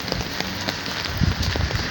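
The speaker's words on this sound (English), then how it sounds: "Rainy." Rain falls steadily on outdoor surfaces in the UK, a dense patter of close drops with a few louder taps, heard alone without talk.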